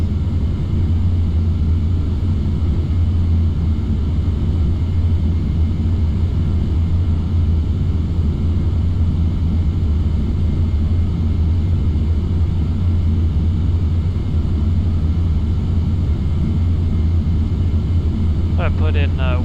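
Steady, loud low rumble of a C-17 military transport aircraft in flight while setting up a midfield cut for landing at Area 51, a continuous engine drone filling the whole stretch, with a brief faint chirp near the end.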